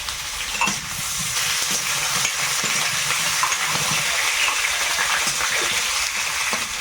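Potato pieces fry in hot oil with whole spices in a home kitchen, a steady loud sizzle filling the pan with occasional stirring scrapes and clinks, no voices.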